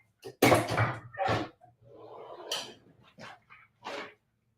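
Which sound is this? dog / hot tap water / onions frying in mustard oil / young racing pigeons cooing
dog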